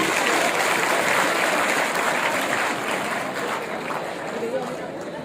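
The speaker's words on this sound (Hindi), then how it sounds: "एक बार जोरदार तालियां प्रतिभागियों के लिए।" Loud, sustained applause from a large crowd at a student rally, honouring the participants. Dense clapping fills the whole stretch, easing slightly toward the end.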